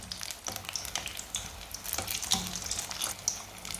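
Egg pakora frying in hot oil, a steady close sizzle with crackling bursts as the pieces are turned to brown on both sides.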